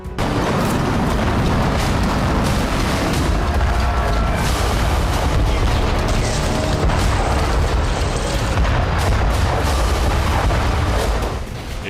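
Explosions booming in the sky over Israeli territory during the Houthi-Israel conflict, a dense, continuous roar of heavy blasts and rumbling bursts that stays loud throughout with no voices.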